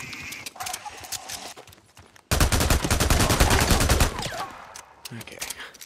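Rapid bursts of automatic gunfire from the Days Gone zombie game at Bear Creek Hot Springs, loud and dense for about two seconds with sharp repeated cracks, followed by quieter scattered shots.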